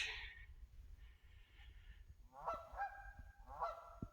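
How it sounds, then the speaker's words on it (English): Geese near a beaver on a wooded trail give several harsh honks in quick bursts, fairly close, over a quiet outdoor background. "These geese are awful worried about the beaver."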